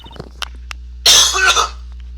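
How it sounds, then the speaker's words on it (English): One rough, close cough with a throat-clearing quality from a man during a game playthrough, loud and breathy, preceded by faint clicks and game sounds in a quiet room. "Sorry, I have to cough."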